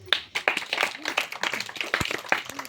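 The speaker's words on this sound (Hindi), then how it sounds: "ताली बजा दो।" A few people clap hands at a village magic show, short uneven bursts of claps, with a little talk mixed in.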